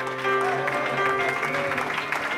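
Church congregation applause fills a worship service, a dense continuous wash of clapping with sustained musical or vocal tones running underneath, steady and fairly loud throughout.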